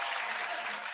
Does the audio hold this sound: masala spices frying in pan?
no